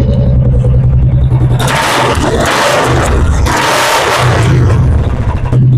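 A Royal Enfield Classic 350 motorcycle in very good condition idles at a second-hand bike showroom, a loud, close, steady low thumping engine beat with two bursts of broadband noise that sound like revving.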